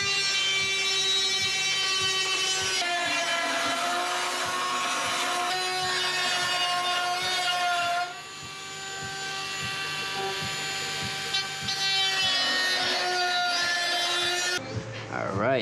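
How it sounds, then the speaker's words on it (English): A Dremel rotary tool whines at a high, steady pitch while cutting a hole for a mount inside a car, its tone dipping briefly under load midway and then rising again before it stops. "He's going to go in and cut it with the Dremel tool"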